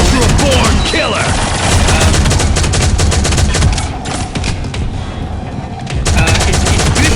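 Sustained rapid gunfire in the Shadowgun shooter video game, dense continuous bursts with a brief dip in the middle before the shooting resumes at full loudness, close and dominant throughout.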